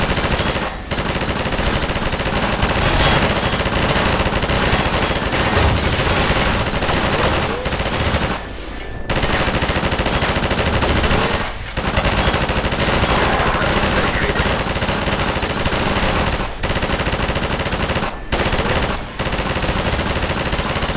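Automatic gunfire rattles almost nonstop at Half-Life 2's flying manhack drones, loud and close, broken by a few short pauses, with a brief spoken exclamation.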